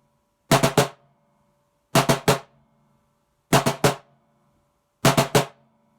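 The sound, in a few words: percussion sticking with lefts too far apart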